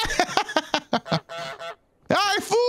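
A goose in Untitled Goose Game lets out a rapid series of loud, nasal honks, a short pause, then a couple more drawn-out honks, close and clear.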